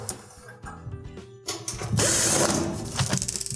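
Phillips screws being backed out of the side panel of a Whirlpool stove with a number 2 Phillips screwdriver, giving close, ratcheting mechanical clicks that grow louder and denser in the second half.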